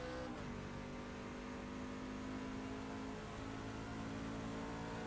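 A truck's engine in the iRacing video game accelerates hard out of a corner at World Wide Technology Raceway, a steady loud drone with a sustained high whine and no talk.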